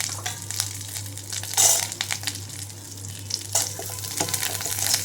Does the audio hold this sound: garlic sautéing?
yes